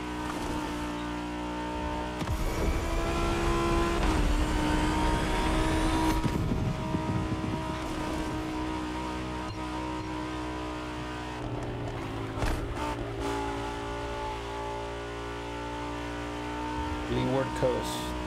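Lamborghini Countach engine revving and screaming through gears in The Crew Motorfest, with loud rising engine pitch sweeps and shifts before settling into a steadier cruising drone, while someone talks over it.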